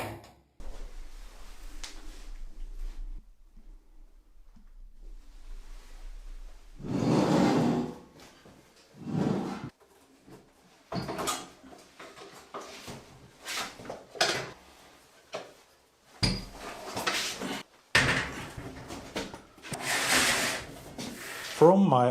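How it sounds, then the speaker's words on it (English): Wooden drawers are pulled out of two stacked drawer units at an old workbench in a new workshop, a series of irregular scraping slides and knocks, some sharp, scattered over the stretch with quiet gaps between them. "So I emptied out the 2 drawer units, taking out all the drawers."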